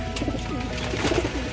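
Pigeons coo in a loft, soft repeated throaty calls close by over a steady low background hum.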